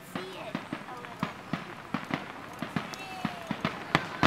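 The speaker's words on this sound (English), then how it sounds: "Now that was a huge firework." Fourth of July fireworks bursting at night, a steady run of sharp pops and booms every half second or so, with people talking over them.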